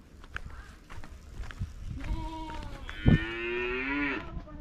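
Light footsteps and shuffling come first, then a cow lets out one long, loud, drawn-out moo close by that rises and holds for over a second.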